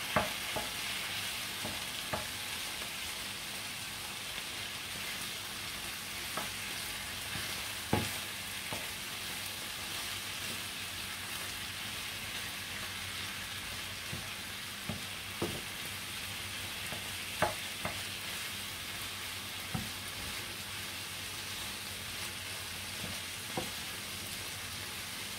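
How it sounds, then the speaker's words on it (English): Chicken curry fries quietly in a pan, a soft continuous sizzle broken by scattered clicks and scrapes of stirring, close but faint, with no talk. "Mix it a little bit."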